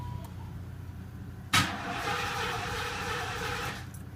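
A small-block Chevrolet engine with a newly replaced ignition coil, cap and rotor cranks without catching: a sharp click, then a couple of seconds of steady, whirring starter churn that cuts off, close and moderately loud.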